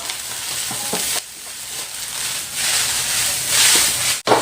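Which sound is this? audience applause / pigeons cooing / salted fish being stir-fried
salted fish being stir-fried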